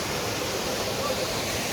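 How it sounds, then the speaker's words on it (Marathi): A mountain stream on the Kedarnath trek rushes steadily, a dense continuous wash of flowing water heard close and loud throughout. "हा झरा आहे, खूप सुंदर."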